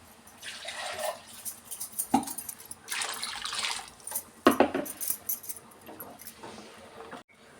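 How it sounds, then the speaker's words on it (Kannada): Water poured from a rinsed mixer jar into a pot of village-style lentil and egg sambar: several separate splashing pours with clinks of the jar against metal, close by, separated by short pauses, no talk. "ಜಾರ್ ತೊಳೆದ್ಬಿಟ್ಟು ನೀರು ಸೇರಿಸ್ತಾ ಇದ್ದೀನಿ."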